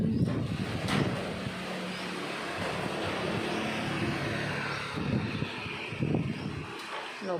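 Storm wind roars past the microphone in a continuous broadband rush, with stronger gusts near the start and end.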